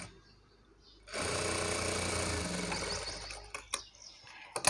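A sewing machine stitches a maggam work blouse in one steady loud whirring run of about two seconds, then stops, followed by a few clicks and handling noises.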